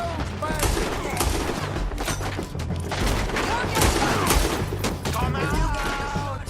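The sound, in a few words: gunfire in shootout, video game Red Dead Redemption 2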